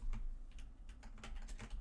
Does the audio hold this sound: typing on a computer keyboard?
yes